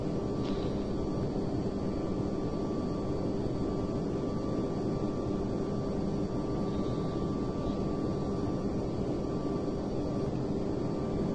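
Airliner engines in Microsoft Flight Simulator X, a Thomas Cook Airlines jet taxiing, giving a steady, loud, broadband jet roar and hum that holds unchanged throughout with no voices.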